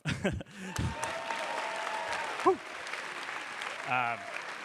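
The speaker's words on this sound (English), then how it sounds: "That's where you clap." An audience at a Harvard Business School event claps steadily in the background while voices talk and call out over it, with a few brief whoops rising above the crowd.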